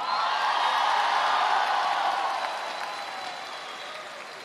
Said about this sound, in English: If you're excited to be here, please make some noise.